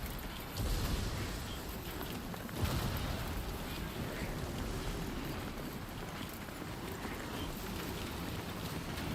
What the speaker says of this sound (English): Oh boy, that is a strong wind.